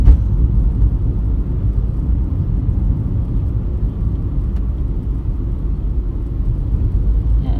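Road traffic rumbles past near a school crossing staffed by children, a steady loud low drone of passing vehicles with no talk.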